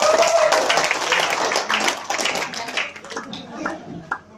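An audience applauds a speaker at a gathering, a burst of dense, overlapping hand claps that tapers off over a few seconds while voices talk over it.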